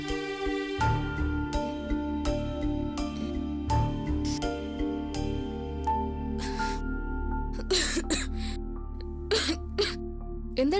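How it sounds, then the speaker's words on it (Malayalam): A woman lying in bed with a high fever coughs in a few short, harsh bursts, standing out over steady background music in a domestic scene. "എന്താടി ഒരു ചുമ?"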